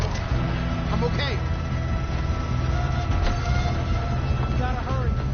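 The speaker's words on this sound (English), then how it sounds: "We have to stop this train." A moving train in Red Dead Redemption 2 rumbles loudly and steadily throughout, a dense rolling clatter with a brief squeal, while voices talk over it.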